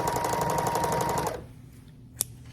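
A sewing machine hemming silk edges runs in a fast, even whirring stitch for over a second, then stops, leaving quiet room tone broken by one brief click.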